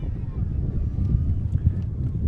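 Strong gusting wind of about 20 to 25 mph batters the microphone at an outdoor high school football game between La Salle College High School and Episcopal Academy, a loud, constant low rumble with shifting buffeting.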